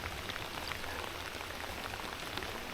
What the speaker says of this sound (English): this rain feels really nice, you know, not so hot.